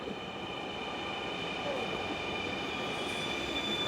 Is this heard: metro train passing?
yes